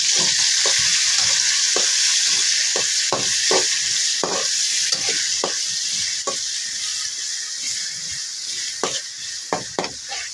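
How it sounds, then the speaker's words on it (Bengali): Cumin, onion, chili, tomato and cinnamon frying in a kadai, a constant close sizzle punctuated by repeated spatula scrapes and knocks against the pan at an uneven pace, no talking. "প্রথমে আমি কড়াইয়ে জিরা ছেড়ে দিলাম, তারপর পেঁয়াজ, মরিচ ও টমেটো ও দারচিনি ছেড়ে দিলাম। এবার নাড়তে থাকবো।"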